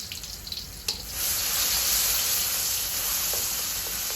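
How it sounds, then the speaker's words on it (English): Chili garlic paste hits hot oil in a home kitchen on a balcony while cooking Thai basil chicken, a few light clinks giving way to a sudden, steady, bright sizzling hiss that stays loud and close. "I love the sizzle that's coming."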